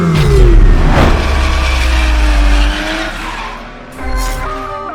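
Dodge Charger Daytona Scat Pack EV with simulated Hemi engine sound, a loud, close, deep synthetic rumble with rising revs and tire squeal, dipping briefly before surging again.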